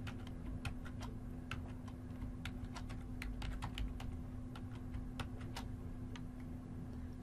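A password is typed on a computer keyboard while setting up EMC Networker 9. The keys give quiet, irregular clicks in a steady run over a low constant hum, and no one speaks.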